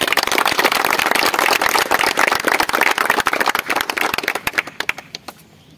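A hall audience at a university hostel event applauds the arrival of the pro vice chancellor, with dense, loud clapping that thins into scattered individual claps before fading out.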